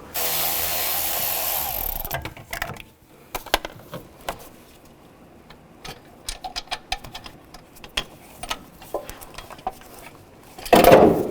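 Hand tools work to remove a car alternator: sparse metallic clinks, ticks and taps ring out one after another, opened by a burst of rushing noise and ended by a louder clank.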